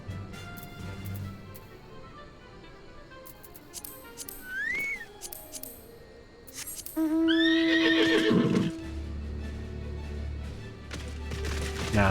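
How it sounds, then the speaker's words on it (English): A horse mount in the Final Fantasy XIV video game gives a clear whinnying neigh, followed by a rising, louder neigh and then a run of clip-clopping hooves, with no talk. "Now there's a horse."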